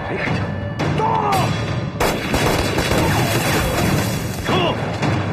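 Gunfire in a war drama set among anti-Japanese resistance fighters: sharp shots and heavy booming bursts break out repeatedly across a loud, busy mix, with no one clearly speaking.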